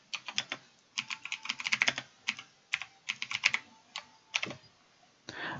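Fingers type on a computer keyboard in quick irregular bursts of crisp clicking keystrokes, close and fairly quiet, with short pauses between runs.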